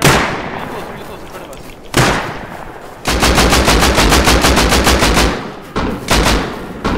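Rapid automatic AK rifle fire from the video game Rust, bursts of dense evenly spaced shots, loud and close, with a sharp single crack before them and a short pause between volleys.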